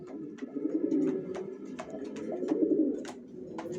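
Young racer pigeons coo in low, throaty, repeated murmurs, close by, mixed with light clicks and shuffling.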